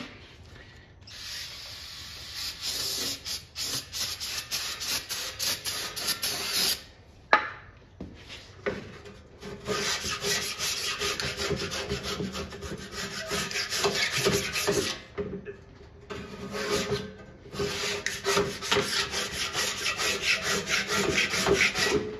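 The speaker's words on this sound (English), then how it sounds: "the glue on here is really thick. All right, so I got my scraper back out." A hand scraper grinds and rasps continuously against thick glue on an arcade cabinet during restoration, close and fairly loud, in long stroking passes broken by short pauses.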